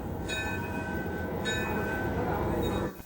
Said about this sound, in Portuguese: Um passeio no trem a vapor em miniatura faz sucesso com as crianças